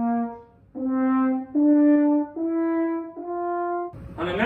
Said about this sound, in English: Typically, horn players play scale with their valves, and it sounds like this.